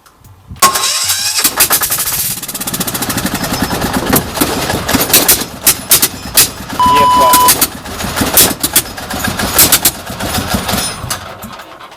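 A diesel engine fitted with an automatic gearbox into a converted microcar starts with a loud clattering burst, then revs and idles roughly up close, with people talking over the noise.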